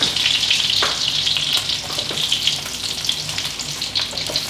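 Pork chops frying in hot oil, a loud steady sizzle with sharp crackles and pops spitting throughout, close by and with no voices.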